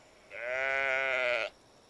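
A cartoon sheep in a farm field lets out one sustained, loud bleat lasting over a second, with no talk over it.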